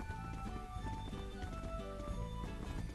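Horse hooves clip-clop in the video game Horse Club, a steady running rhythm of footfalls set under game music with sustained melodic tones, with no talk.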